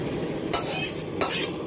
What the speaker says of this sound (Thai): เราผัดจานใหญ่เลยนะคะ